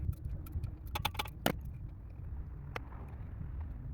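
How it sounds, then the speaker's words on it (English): A ratchet turns bolts on the cover of a Poulan Pro 18.5 HP lawn tractor: a quick burst of light metallic clicks, then a single later click over low outdoor rumble. "Works better if the ratchet turn the right direction."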